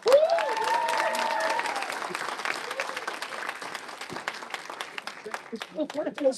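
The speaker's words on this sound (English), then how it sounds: "Round of applause for this panel." Applause from a town hall audience fills the opening seconds, dense clapping that thins out and fades toward the end, with a voice speaking over it.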